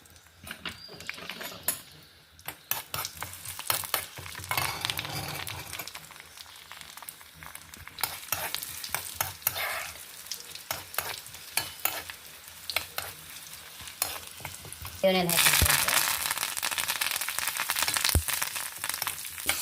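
Chana dal, urad dal, mustard seeds and eight to ten crushed garlic cloves fry in peanut oil for a chutney tempering, with uneven sizzling, spoon scrapes and stirring clatter, rising to a louder hiss near the end.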